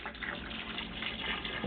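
Orange juice pours steadily into a seafood boil pot, a continuous close liquid splash running for under two seconds with light kitchen background.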